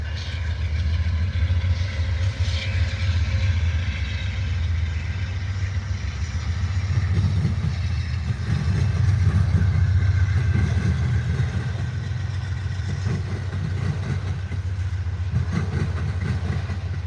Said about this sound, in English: here we go, Amtrak 5, departing Ottumwa, right on schedule, heading west.